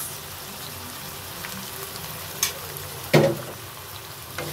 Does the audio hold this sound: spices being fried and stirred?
yes